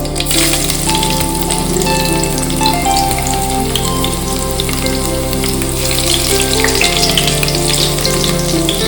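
Mustard seeds, onion and garlic fry in hot oil, a loud, steady, close sizzle and crackle with no voices.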